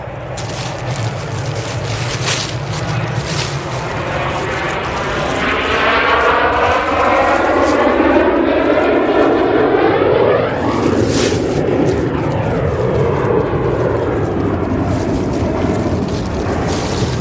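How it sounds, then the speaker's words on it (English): An airliner taking off at Manchester Airport roars steadily from a distance, its engine drone swelling and shifting in pitch as it climbs, loud and continuous with no talk over it. "there's a plane taking off as we speak"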